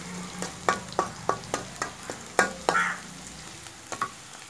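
Ginger-garlic spice paste and onion frying in a wok, a soft sizzle under a run of about a dozen sharp spatula scrapes and taps at an irregular pace, close and fairly quiet with no talk.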